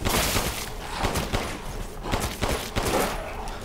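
A new gun in the video game Resident Evil Village fires in rapid, loud, repeated bursts that continue steadily without pause.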